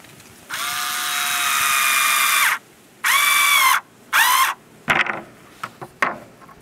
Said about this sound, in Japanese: ここにネジを締め込みます。